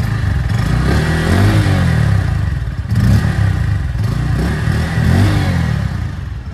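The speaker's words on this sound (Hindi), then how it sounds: "कुछ इस तरीके का एग्जॉस्ट नोट आपको यहाँ पे देखने को मिल जाता है" A 2024 Bajaj Pulsar N150 motorcycle, E20 model, starts up and runs nearby with a loud, throaty exhaust note, rising in two or three clear revs between steady idle.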